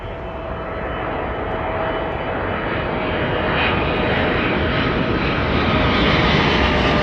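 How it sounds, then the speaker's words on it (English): A KLM Boeing 777 jet airliner passes at Toronto Pearson airport with a loud, steady engine roar that swells slowly. It sounds close and drowns out everything else. "KLM, Boeing 777."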